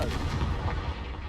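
A Confringo explosive spell cast in Hogwarts Legacy gives a brief, dense, booming blast with rumbling low end that lasts about a second, with no speech over it.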